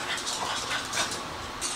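Five-week-old French Bulldog puppies whimper and whine softly in a steady, close cluster of faint high cries with no talking.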